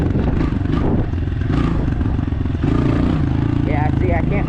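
A 200-pound dirt bike's engine revs and buzzes loudly up close while riding, with clattering and rising pitch as it accelerates, and a voice speaks over it.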